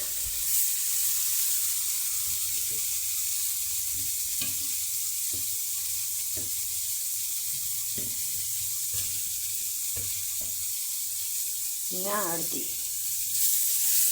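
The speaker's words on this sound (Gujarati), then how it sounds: "હવે આપણે તેને તાવીથા વડે હલાવીને શેકાવા દઈશું।" Grated carrot roasts in a pan for carrot halwa, stirred with a spatula: a steady close sizzle under repeated soft scraping strokes, with a brief voice near the end.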